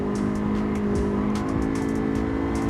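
A Honda EF Civic Si engine in Gran Turismo 7 hums steadily at a constant pitch, a sustained buzzy drone with little change in revs and light tyre noise over it.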